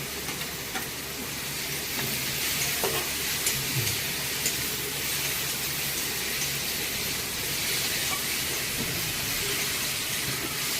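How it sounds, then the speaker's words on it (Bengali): Green chili hits hot oil in a pan while dal fry is being made, producing a loud, steady hiss of sizzling that runs unbroken from start to finish. "ভাজা ভাজা হয়ে গেছে হ্যাঁ এবার লঙ্কাটা দিচ্ছি"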